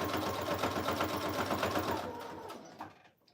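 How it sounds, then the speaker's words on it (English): A sewing machine stitches steadily over lace laid on wallpaper, its rapid needle rhythm running continuously and fairly close before slowing and stopping near the end. "I'm sewing just right over this lace, which will anchor it down."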